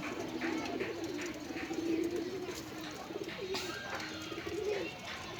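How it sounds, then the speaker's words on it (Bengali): A male pigeon coos repeatedly in low, rolling calls, close by, over a steady outdoor background hum. "এই কবুতরটা আনছিলাম এক বড় ভাইতে, নর কবুতর"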